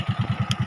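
Motorcycle engine running with a regular low thumping pulse, close and fairly loud, no talk over it.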